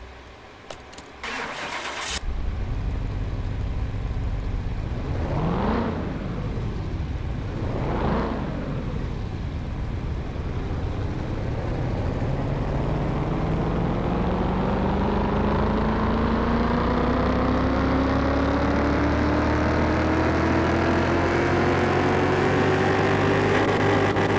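A NextGen race car engine rated at 675 horsepower fires up on a dyno, giving a short starting burst and two rising revs before settling into a loud, steady running note that climbs slowly in pitch, with no talk.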